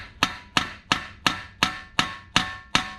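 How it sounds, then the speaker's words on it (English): Eight sharp metallic hammer taps on a seized CV axle of a 2002-2006 MINI Cooper, at an even, unhurried pace, close up and alone with no talk. "I'm going to get a slightly smaller hammer and see if we can tap the axle out of here"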